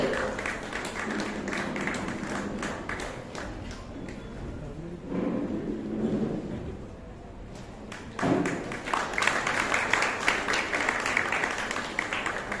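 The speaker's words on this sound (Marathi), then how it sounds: "जोरदार टाळ्यांनी सत्कार होतो. टाळ्या वाजवते." Audience applause at a women's honour award ceremony for a student's exam result, a dense patter of clapping that swells again near the end, with a voice speaking faintly underneath.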